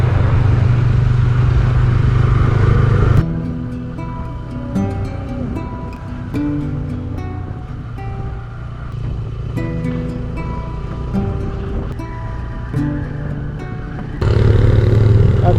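A motorcycle rides up a mountain road near Skardu into cool wind, with a steady engine drone and heavy broadband wind rush running loud and continuous throughout.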